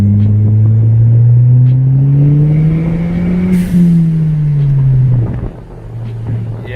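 A turbocharged widebody big-turbo Ford Fiesta ST engine revs up smoothly, its pitch climbing over a few seconds as boost builds, then drops back to idle; close and loud, with a voice briefly heard.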